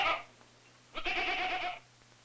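Feral goats on the Galapagos Islands bleat: one short call at the start, then a longer, louder wavering bleat after a pause, close by with a faint steady hum underneath.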